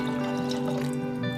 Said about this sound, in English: now we are going to be pouring it in